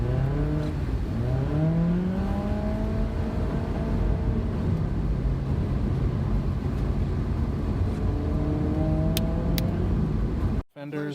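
A car pulls away and accelerates, its engine note climbing through several rising sweeps, loud and close throughout, ending abruptly.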